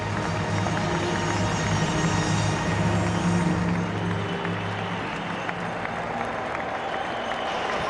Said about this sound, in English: to a huge ovation from the crowd in the Aviva Stadium